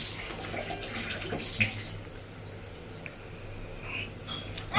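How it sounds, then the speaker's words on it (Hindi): Water runs steadily from a tap into a bucket at home during hand-washing of clothes, a continuous hissing splash with a few small knocks and no talking. "और पानी भर ले"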